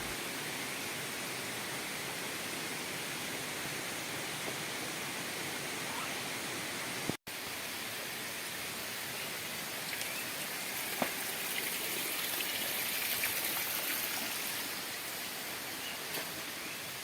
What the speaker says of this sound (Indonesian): Air terjun yang tinggi, aliran air yang jernih, udara yang sejuk, serta suasana alam yang masih terjaga